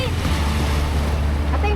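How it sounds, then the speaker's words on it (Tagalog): Loud, continuous rushing surf and heavy wind noise buffeting the microphone at Manila Bay Dolomite Beach, a dense roar of big waves crashing close by. "Lalaki ng mga alon ngayon dito oh."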